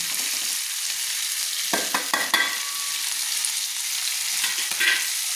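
Fried potatoes and yardlong beans sizzle steadily in a hot pan, a close, even frying hiss broken by a few brief scrapes and clinks as they are gently stirred.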